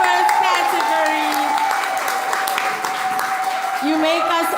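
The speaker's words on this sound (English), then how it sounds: "Round of applause once again for our wonderful winners in the first category." Applause for the winners of a climate solutions awards ceremony runs steadily throughout, a continuous wash of clapping beneath a sustained tone and voices.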